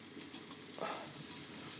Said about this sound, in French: Vous voyez, ça commence à grésiller.